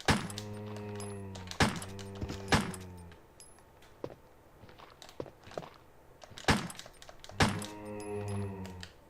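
In the Resident Evil Director's Cut game, a zombie's head is blown off amid heavy weapon blasts and deep groaning zombie moans, with several sharp impacts spread out and quieter scuffs between them.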